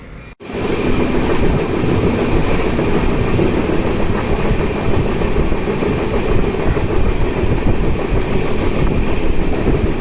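A train runs along the rails between stations near Ramanagara, a steady loud rumble with a dense rolling roar that holds unchanged for about ten seconds after a brief gap at the start, with no voices.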